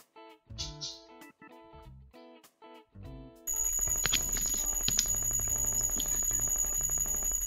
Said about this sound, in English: Is my alarm going off?